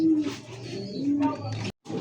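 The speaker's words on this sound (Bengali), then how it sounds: "দর্শক এই মুহূর্তে দেখতে পাচ্ছেন আরও একটা জোড়া সাদা ধবধবে একটা কবুতর বোম্বাই।" White Bombai pigeons coo in soft, throaty, repeated calls close by, with a brief pause near the end before the cooing resumes.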